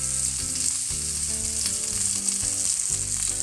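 Raw banana slices frying in oil give a steady, bright sizzle throughout, with soft background music playing underneath.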